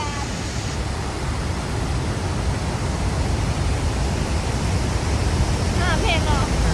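A waterfall pours in a loud, steady broadband roar of rushing water that fills the whole stretch without a break, with a faint voice-like sound briefly surfacing near the end.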